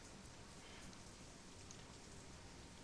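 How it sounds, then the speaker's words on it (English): Steady rain pouring onto a grimy city street in the video game Shadowrun Hong Kong, a constant dense hiss that stays even and unbroken throughout with no voices. "Foul, oily water rains down from above, mixes with the filth and offal and swill of the streets"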